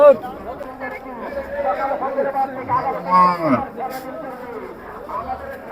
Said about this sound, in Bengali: প্রচুর গরু বাজারে আসছে এই হচ্ছে গরু বাজার